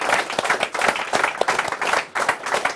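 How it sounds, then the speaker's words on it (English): Applause from the audience at an awards ceremony, a dense burst of many people clapping with a slightly uneven pulsing rhythm, fairly loud and close, with no speech over it. "So a round of applause to everybody involved."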